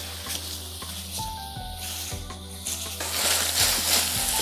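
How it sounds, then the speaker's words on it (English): Beef for a ragu browns in a pan, a continuous close sizzle and hiss with occasional scraping as pieces are moved, growing louder toward the end. "we're browning the meat"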